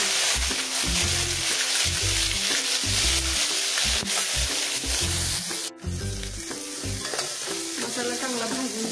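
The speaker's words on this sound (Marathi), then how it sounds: "ही जी आपण कांदा टोमॅटोची प्युरी केली ती भाजून घेऊया." Onion-tomato puree frying in two ladles of hot oil for a spicy Satara-style mutton curry, giving a continuous close hiss and sizzle under rhythmic background music, with no talking.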